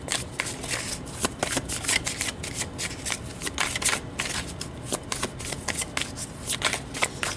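Tarot cards shuffled and drawn by hand, a steady, close, fairly loud flurry of riffling and slapping card sounds with no talking over it.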